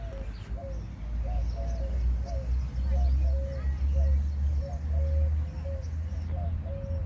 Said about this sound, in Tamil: எவ்வளோ பேர்ட்ஸ் பாருங்களேன்